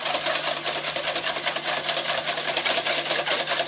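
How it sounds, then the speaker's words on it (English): A whisk beats egg whites vigorously toward stiff peaks in a bowl, giving a fast, steady rhythm of close, bright scraping strokes with no other sound. "just whisk vigorously"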